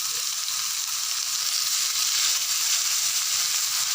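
Steady, loud sizzling of pork stir-frying with garlic in a hot pan for Thai holy basil pork, a continuous crackling hiss with soft stirring scrapes underneath.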